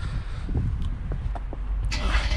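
A Mercedes-AMG C63 S V8 starts up, a steady low engine rumble filling the clip with a brighter rise of revs toward the end; brief voices are heard under the engine noise.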